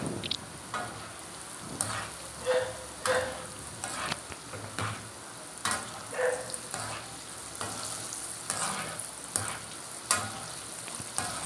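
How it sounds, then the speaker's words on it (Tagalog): Eggplant for a pork-free talong sisig fries in hot oil in a pan: a continuous crackling sizzle broken by repeated clattering stirs, loud and close. "So, mainit na yung ating mantika. Ayan. So, ilalagay na natin nga yung ating gagawing sisig."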